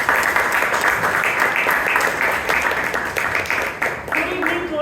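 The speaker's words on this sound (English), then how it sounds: "Can we have a big round of applause for him?" Toastmasters club audience applauds loudly and continuously, dense close clapping with a few voices mixed in toward the end.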